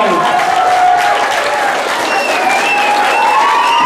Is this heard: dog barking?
no